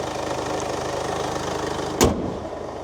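A Mercedes 2143cc diesel in a front-wheel-drive SUV idles close by with a steady low rumble and light clatter, and a short sharp click or thump lands near the end.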